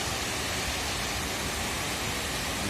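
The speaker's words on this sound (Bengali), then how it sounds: "অসাধারণ লাগছে জলটা উপর থেকে পড়ছে" Water pours from above at Bhatinda Falls as a steady, dense, broadband roar, loud and unbroken throughout, with no voices over it.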